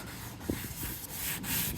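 Wet sandpaper scrubs back and forth over the painted body of a Toyota Yaris, a soft, steady rasping rub that runs throughout the short clip.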